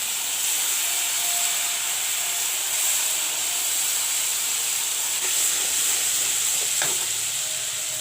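Onion and garlic paste sizzling in hot oil in a pan while cooking a mustard and garlic vegetable dish, a loud continuous frying hiss with faint stirring scrapes and a few light clinks.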